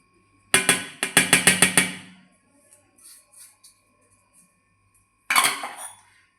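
Jowar flour and rice flour being stirred together in a bowl, heard as a quick run of sharp clinks against the bowl, a quiet pause with faint knocks, then another short burst of clattering.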